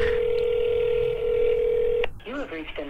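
A steady telephone tone drones for about two seconds, cuts off with a click, and then a voice speaks over the line.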